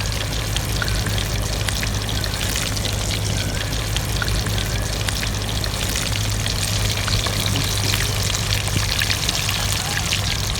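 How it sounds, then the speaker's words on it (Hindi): Keema tikki kebabs fry in a pan over a village cooking fire, giving a steady, dense, close sizzle that runs unbroken and loud throughout with no pauses. "इसी तरह सारी टिक्कियाँ जो है हम फ्राई कर लेंगे।"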